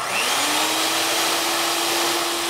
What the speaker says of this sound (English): Okay, let's whip the egg whites.